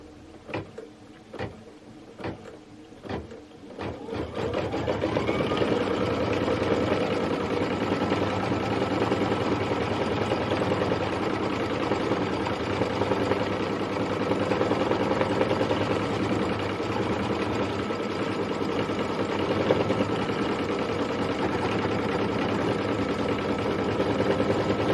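Embroidery sewing machine stitching a Kimberbell advent number, a few short clicking bursts at first, then a loud steady rapid mechanical whirr that runs without pause to the end.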